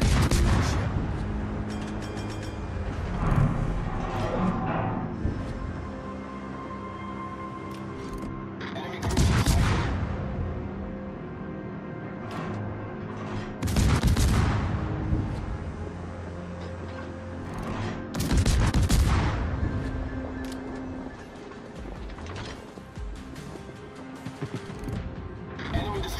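Warship guns in World of Warships boom in heavy salvos, four big volleys spread across the stretch, each with a long rumbling tail over steady engine and ambient game noise.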